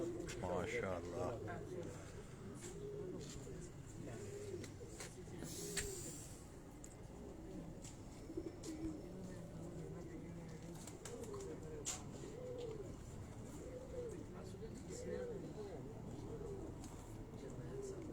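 Domestic pigeons of an original bloodline cooing softly on a rooftop loft, low repeated coos running under someone talking throughout, with occasional sharper bird calls.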